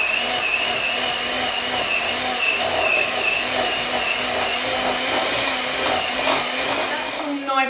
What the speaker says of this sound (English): And now I'm just going to whisk these together.